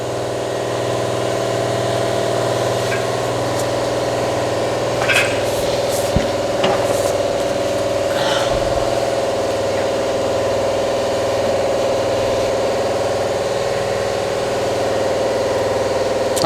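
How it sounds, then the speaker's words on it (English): A large air compressor runs steadily beside a tire changing machine, a loud continuous mechanical drone with a few brief clanks and hisses over it. "So my big air compressor's running. So this uses a lot of air."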